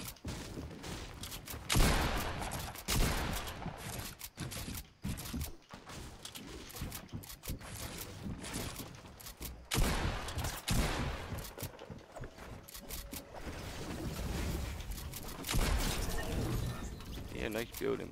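Fortnite gunfire, dense bursts of rapid shots and weapon mechanics crackling loudly across the whole stretch, with players talking over the fight.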